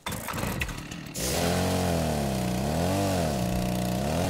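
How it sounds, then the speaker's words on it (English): A chainsaw in the survival video game Rust starts up after a short burst of noise, then runs loud and steady while it cuts trees, its engine pitch rising and falling under load. "It's been a while since I've used a chainsaw."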